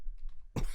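A single short cough near the microphone at the end, after a quiet stretch with faint murmuring.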